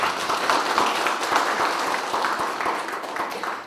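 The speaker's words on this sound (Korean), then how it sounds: "여러분 큰 박수로 지금 맞이해 주시기 바랍니다." Audience applause at a Korean community academic commemorative event, sustained steady clapping from a crowd welcoming a lawmaker, dense and continuous throughout without speech.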